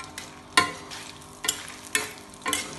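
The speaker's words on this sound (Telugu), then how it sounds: "తర్వాత ఈ గింజలన్నీ వేసుకోవాలండి. ధనియాలు, జీలకర్ర ఆవాలు వేసుకొని," Coriander seeds, cumin, mustard seeds and curry leaves frying in oil for a black gram chutney, a light sizzle punctuated by four crisp scrapes of a spoon stirring the pan.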